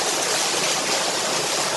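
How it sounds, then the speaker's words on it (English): Water pours steadily onto the buckets of the top wheel at a historic watermill, a loud continuous rushing gush that fills the whole moment with no voices. "water going on to the top wheel now, filling the bucket. It'll start turning very shortly."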